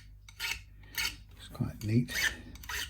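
A small file rasps along the edges of guitar frets to remove burrs, several short scraping strokes in quick succession, close by, with a brief spoken remark among them.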